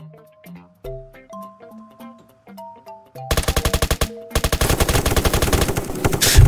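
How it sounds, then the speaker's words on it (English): Rapid automatic gunfire from the Roblox game Apocalypse Rising 2 bursts in loudly after a stretch of tonal game music, then pauses briefly before a second sustained volley. "let's see if I can get up on here and shoot these dudes"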